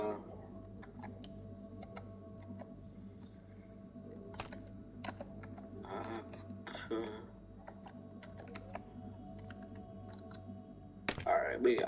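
Sparse clicks and taps from a computer keyboard and mouse during Minecraft play fall at irregular intervals under a low, steady background hum, with a few brief clusters of keystrokes and a voice talking at times.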